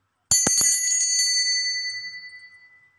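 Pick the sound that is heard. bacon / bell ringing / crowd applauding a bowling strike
bell ringing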